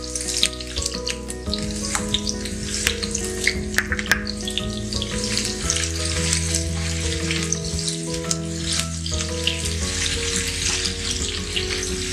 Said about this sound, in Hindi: हल्की सी हरी मिर्ची फ्राई हो जाए तो ये हम अदरक शामिल करेंगे।